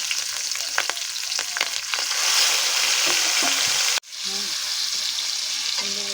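Nigella seeds, green chili and chopped tomato sizzling in hot oil in a pan, a steady bright hiss with occasional stirring scrapes and clinks, a brief dip midway before the frying resumes, close and fairly loud.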